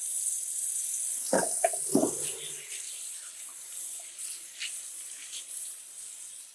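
Water runs steadily from a tap into a sink during handwashing, a constant broadband hiss with a few brief splashes and clinks near the start, close and moderately loud throughout.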